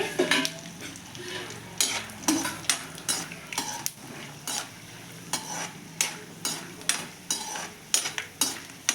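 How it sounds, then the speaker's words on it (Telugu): Peanuts fry in a little oil in a pan, a steady sizzle broken by regular scraping and clacking stirs about once a second, near and loud, with no talk. "ఇట్లా ఆయిల్లో ఫ్రై చేసుకుంటే నిజంగా బాగుంటాయండి పల్లీలు"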